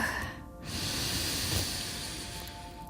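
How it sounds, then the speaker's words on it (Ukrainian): During a guided meditation, a person draws a long, deep breath in, heard as a close, airy, hissing inhalation that swells after a brief pause and holds steadily before tapering off. "Ми робимо глибокий вдих."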